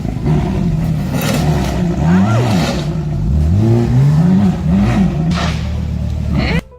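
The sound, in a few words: Ferrari LaFerrari engine revving as the car is floored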